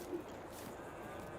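Dairy cows on a hillside give a low, drawn-out moo, faint and distant, with steady outdoor farm noise underneath.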